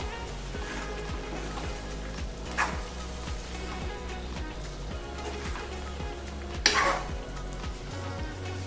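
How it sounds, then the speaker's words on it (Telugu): Chicken handi masala with garam masala and coconut powder sizzles and fries steadily in a pan, with a spoon scraping and stirring through it and a couple of louder clinks, close and continuous. "ఇప్పుడు బాగా కలుపుకోవాలి."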